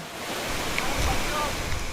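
Steady rushing roar of the 90-foot Ulan-Ulan Falls in Biliran, dense and constant, with a windy hiss over it and no clear voices.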